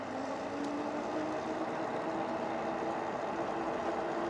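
A Mooncool TK1 folding electric trike motor hums steadily while climbing a hill on throttle only, the sound faint and continuous beneath heavy wind noise, with no talking.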